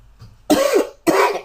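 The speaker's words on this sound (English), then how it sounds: "I feel a cough coming on." Two loud, close coughs in quick succession, each a sharp burst with a rough throaty tail, alone with no talk.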